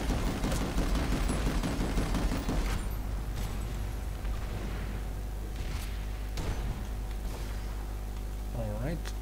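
Planetside 2 battle sounds: rapid gunfire bursts and booming explosions in a steady wash of game noise, with a voice talking throughout.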